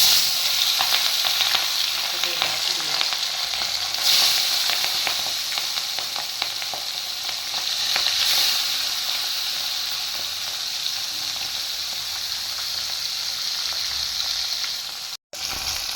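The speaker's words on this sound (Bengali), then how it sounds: "তেলটা গরম হয়ে গেছে, এবার আমি এক এক করে মাছগুলো ভেজে নেব।" Pabda fish fry in hot oil with a constant, close, bright sizzle and crackle that holds steady for the whole stretch, with light spatters rising now and then.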